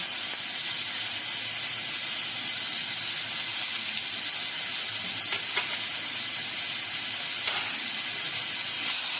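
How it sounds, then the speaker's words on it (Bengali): Oil sizzles loudly and steadily with a dense hiss as garlic fries up close, with a few light scraping stirs along the way. "একটু নেড়ে চেড়ে ভেজে নেবো রসুনটা"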